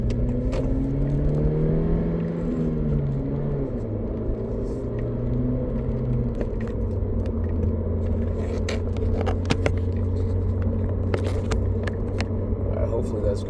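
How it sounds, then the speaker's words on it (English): Steady low engine rumble and road noise from inside a moving car, with small rattles and scrapes near the camera throughout, and a person talking over it. "because I'm driving right now."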